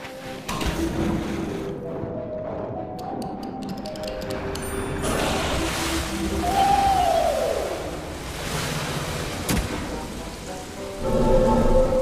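Rain in the video game Castle of Illusion, a steady hiss of rainfall with rumbling undertones and scattered game effects layered over it, continuing throughout at moderate volume.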